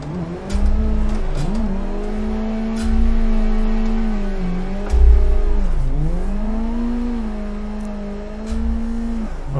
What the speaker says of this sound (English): So as you can see, I just made that drift without the e-brake